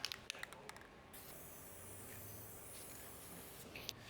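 Spray paint hissing in a steady continuous stream onto a US General toolbox, faint and close, with a few clicks and knocks at the start and end.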